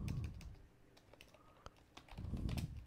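Typing on a computer keyboard: a short run of quick, close key clicks with irregular rhythm, heard on its own without speech.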